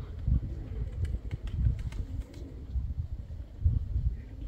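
Pigeons coo low and soft in a repeating rhythm outdoors, several birds calling close by with faint chirps and a light background hum, no speech.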